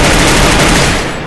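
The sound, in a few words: gunfire headshots in a video game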